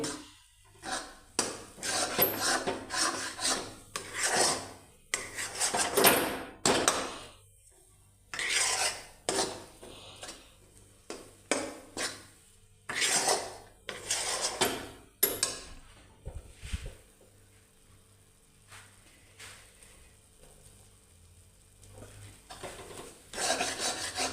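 A thick khoya mixture for barfi is stirred and scraped in a pan, giving repeated rasping strokes in irregular bursts with short pauses, close and fairly clear, with no talking.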